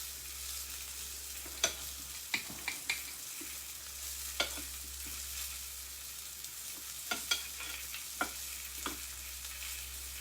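Flour-dredged chicken pieces for chicken piccata fry in a pan with a steady soft sizzle, punctuated by scattered sharp pops and clicks; no voices.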